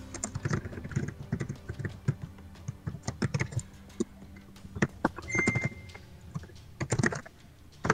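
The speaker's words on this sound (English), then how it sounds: "Now I'm typing in my Star Wars group." Rapid typing on a computer keyboard, close and crisp, with irregular bursts of key clicks and short pauses between, no talking.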